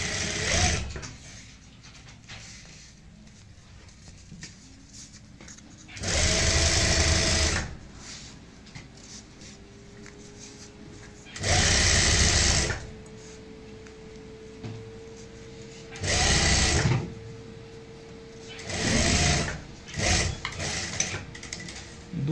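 Sewing machine stitching a handle onto a zipper handbag, running in four separate loud bursts of steady whirring with quiet pauses between them.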